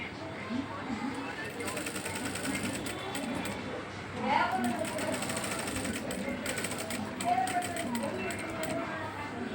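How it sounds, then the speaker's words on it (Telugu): A sewing machine top stitches along a blouse neck, its rapid mechanical whirr stopping and starting at close range while someone talks over it. "ఇప్పుడు మనము దీనిని పై వైపున టాప్ స్టిచ్ అనేది వేసుకోవాలి ఒకటి."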